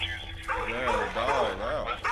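A dog barks and yips in police body camera footage, a few strained, wavering calls close to the camera, mixed with and partly under a person talking.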